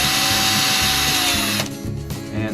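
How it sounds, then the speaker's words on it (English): A power drill bores through an aluminum panel on the front of a Baja Bug, a loud, steady grinding whine held under constant pressure that drops off partway through and then picks back up more quietly. "Now I'm just gonna drill this through again, going straight with constant pressure."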